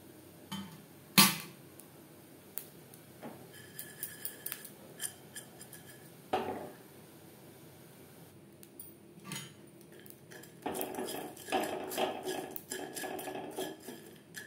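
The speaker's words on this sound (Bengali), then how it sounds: "মশলাগুলো ভাজবো লো ফ্লেমে।" Whole spices dry-roasted on low flame in a pan for mutton biryani rattle and scrape under a metal spatula, giving sharp clinks and scattered stirring strokes that grow busier toward the end, with no talking.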